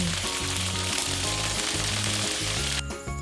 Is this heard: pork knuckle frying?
yes